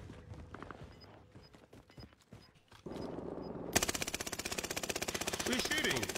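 Call of Duty Warzone gunfire starts as scattered single shots and short bursts, then turns into a loud, sustained rapid machine-gun stream that fills the end of the clip.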